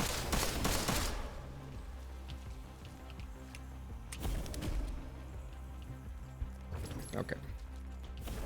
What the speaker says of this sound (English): I guess I can shoot him before he has a chance to.